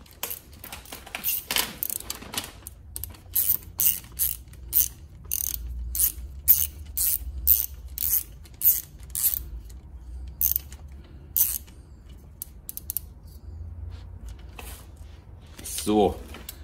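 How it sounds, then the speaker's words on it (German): A ratchet tightens a ring-terminal eyelet onto the aluminium engine block while a Malossi internal-rotor ignition is fitted to a scooter: a long run of quick, regular clicking bursts at close range, with a low hum and brief speech. "und schrauben sie fest."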